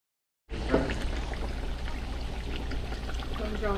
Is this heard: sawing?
no